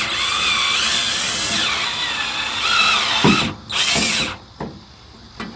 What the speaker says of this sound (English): I've wanted to be able to use a right hand style drill for a long time.